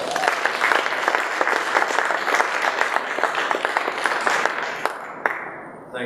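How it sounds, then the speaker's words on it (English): An audience at a Shark Tank event in San Francisco gives steady, dense applause for Roger King, heard fairly close and loud, then tapering off and fading near the end. "How about a round of applause?"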